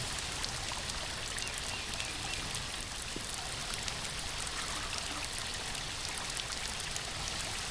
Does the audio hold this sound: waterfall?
yes